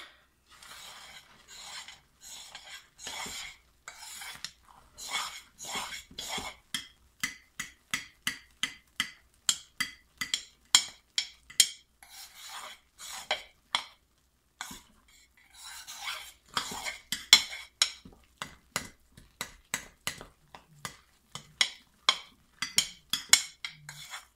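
A spoon stirs hot process soap in a pot, making a long run of rhythmic scraping and clunking strokes, crisp and close, pausing briefly midway before resuming.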